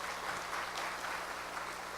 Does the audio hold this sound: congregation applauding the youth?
yes